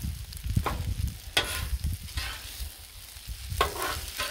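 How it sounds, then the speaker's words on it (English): Cajun fried rice stirred on a Blackstone griddle, a spatula scraping and pushing rice in several close strokes over a steady sizzle, with no talking. "Give this a good stir."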